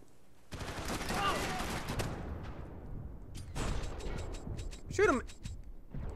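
Gunfire in the video game Max Payne 3 cracks in sharp bursts and volleys, loud and close, mixed with game effects and someone talking over the action.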